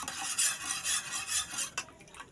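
Spoon stirring coconut milk and sugar in a pot on the stove, soft rhythmic scraping strokes repeating close up, fairly quiet with no talk.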